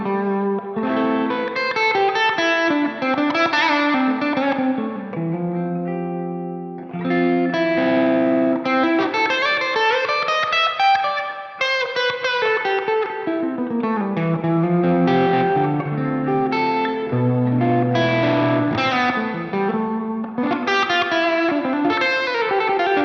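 An electric guitar plays melodic, sustained notes through a Line 6 Helix reverb with 20 ms pre-delay, giving an effects-heavy distorted tone that rings continuously and loudly with a short gap partway through.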